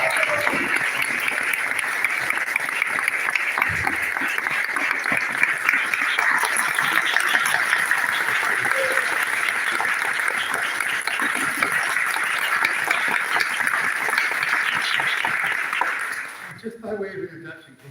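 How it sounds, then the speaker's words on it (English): Sustained audience applause welcoming a guest, Ashram Manj, at a live talk event, steady and fairly loud for about sixteen seconds before tapering off, with some talk mixed in. "a big round of applause"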